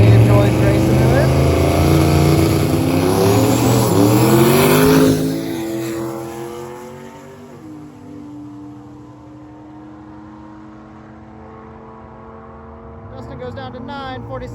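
A Camaro race car roars loudly away down a drag strip, its engine tone climbing through gears before fading into the distance. Other engine noise lingers faintly behind.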